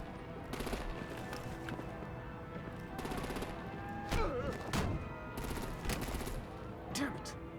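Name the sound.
artillery gunfire in Batman: The Enemy Within video game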